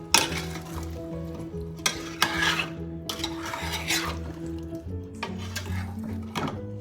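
Chicken with yogurt fries lightly in a pan, a steady sizzle broken by bursts of stirring and the scrape and clink of a utensil against the pan.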